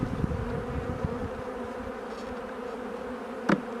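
Honey bees hum steadily around an open hive during an inspection, a close, even buzzing with a short sharp knock or scrape near the end.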